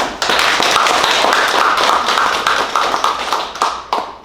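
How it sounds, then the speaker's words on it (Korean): Staff at a workshop for the Sungsimdang bakery applaud together, a dense burst of many hands clapping nearby that gradually thins and fades over about four seconds. "박수 크게 부탁드립니다"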